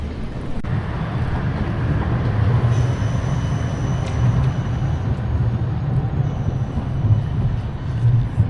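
Trams roll past outside Amsterdam Centraal station with a steady, continuous rumble of wheels on rails and faint squeals, close by and without talk.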